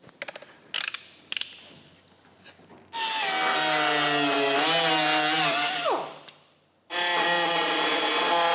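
Power tool cutting a classic Camaro's coil spring under a rubber welding mat, a loud high grinding whine in two long bursts with a pitch drop as the blade bogs, after a few handling clanks.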